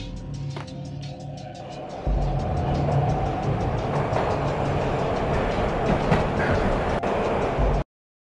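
A moving train in the video game Max Payne: a steady rumbling rattle of carriages that swells after a quieter opening, runs evenly under a faint high hiss, then cuts off abruptly.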